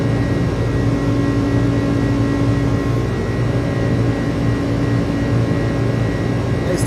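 An iniBuilds A300 airliner in Microsoft Flight Simulator takes off on a FedEx cargo flight, a steady loud jet-engine roar with a low rumble and a constant hum, unbroken throughout with no voices.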